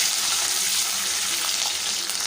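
Steady, loud hiss and crackle of spices tempering in hot sesame oil, continuous and close, with no talking.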